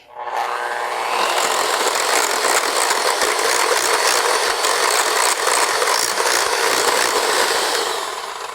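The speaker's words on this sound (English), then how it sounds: "I'm going to go ahead and keep whisking." Cream is whisked steadily in a bowl with maple syrup, cinnamon and other sweeteners for crepes, a continuous fast scraping whir that stays loud and close for the full stretch with no talking.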